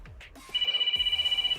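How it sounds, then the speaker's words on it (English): A mobile phone rings from inside a bag behind someone indoors, a steady pulsing electronic ringtone that starts partway through and keeps going, moderately loud and slightly muffled. "Excuse the phone ringing, it's in a bag behind me."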